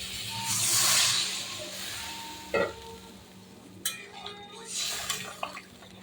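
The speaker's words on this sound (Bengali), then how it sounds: "এবার আমি জল দিয়ে দেবো" Water is poured into a simmering curry of young pumpkin and shing fish, a hissing pour followed by sizzling, stirring and scattered clinks of a utensil against the pan, close by.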